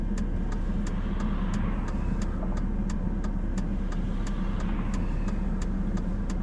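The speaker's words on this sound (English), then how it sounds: "Look at all the traffic." Continuous road traffic rumbles past apartments in Minot, North Dakota, a steady mid-level wash of car engines and tire noise with faint rhythmic ticking on top, no voices.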